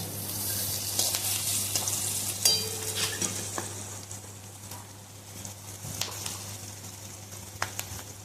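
Asafoetida and slit green chillies sizzle and crackle in hot oil for a mixed tadka, a steady close frying hiss with a few sharper pops and stirring clatter.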